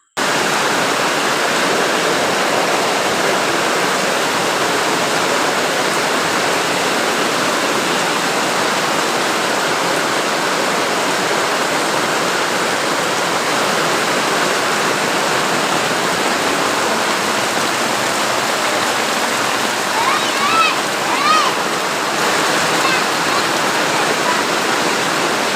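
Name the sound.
heavy monsoon rain and flowing water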